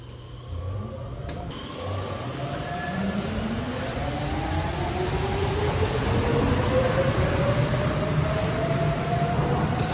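A rubber-tired Sapporo Municipal Subway train runs with a rising whine that climbs steadily in pitch as it accelerates, over a loud rumbling roar and a constant high tone.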